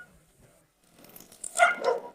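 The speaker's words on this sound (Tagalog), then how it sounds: "Bakit nagwawala ang mga aso?" Dogs on a farm, a Rottweiler and a Doberman, break into loud, close barking after a quiet start, with a couple of sharp barks near the end.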